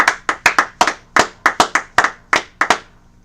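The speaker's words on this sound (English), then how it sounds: "Alright, clap it up." Hands clapping at a rally in Harlem, New York: about a dozen sharp, separate claps in an uneven rhythm, close and loud, with no talk over them.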